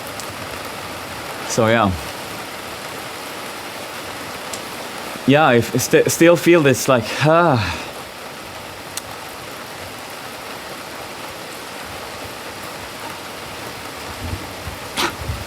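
Rain falls on a carport as a steady, even hiss that runs the whole time, with a person talking briefly near the start and middle.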